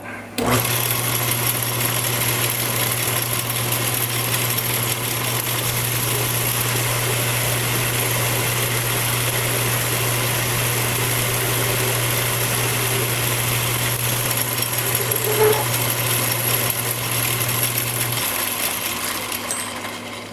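A lathe takes a final cut on a diamond grinding wheel crush dresser, its motor holding a continuous steady hum with a thin high whine over it for about twenty seconds, close and without talk before the tone drops near the end.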